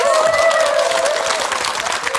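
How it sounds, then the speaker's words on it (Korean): Studio audience on a Korean KBS talk show breaks into dense, continuous applause, loud and close, with faint voices mixed under the clapping. "박수."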